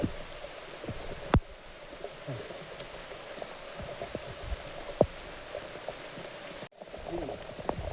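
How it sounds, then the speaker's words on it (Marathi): Rain keeps falling at Avchitgad fort in Raigad, an even hiss with scattered drips and a few sharper taps, with no talking. "पाऊस पडतोय."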